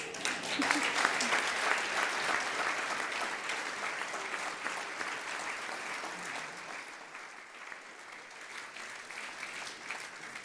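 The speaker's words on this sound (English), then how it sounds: "Thanks for your applause and your reception to Susan's remarkable story." An audience applauds at a conference on world hunger and sustainable food, a dense, steady clapping from many hands that slowly thins and softens over ten seconds.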